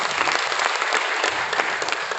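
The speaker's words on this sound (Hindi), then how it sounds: "हाँ, ये तालियां बजा दो एक बार।" Audience applause fills a hall at a motivational talk, steady dense clapping from a crowd for a couple of seconds with no break.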